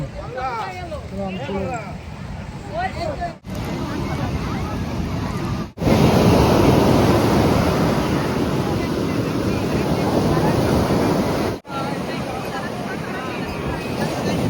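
Sea waves roll onto Puri beach in a loud, broad, continuous roar with wind buffeting the microphone. A voice talks near the start, and the sound drops out briefly a few times.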